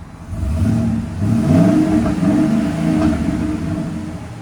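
A 2015 Ford F-250's 6.2L V8 with a Flowmaster 50 Series muffler revs steadily nearby, its deep, rumbling, throaty exhaust note rising and falling without any talking.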